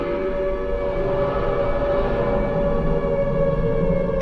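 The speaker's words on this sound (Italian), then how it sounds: "La sirena, un'altra volta la sirena" A wailing air-raid siren in the Silent Hill 2 video game holds a steady, loud, droning tone with layered harmonics, sustained alone for the whole stretch over a low rumbling bed.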